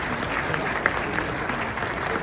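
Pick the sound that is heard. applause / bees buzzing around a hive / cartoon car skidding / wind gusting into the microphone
applause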